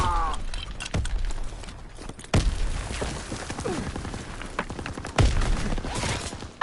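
Machine pistol gunfire in a video game, with rapid bursts of sharp shots and several louder cracks among scattered impacts, all close and loud.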